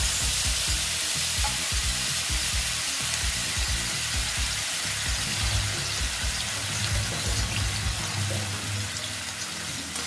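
Spice paste hits hot oil in a pan and sizzles loudly and continuously, with steady crackling and occasional stirring scrapes throughout. It is being fried for a milk paneer curry.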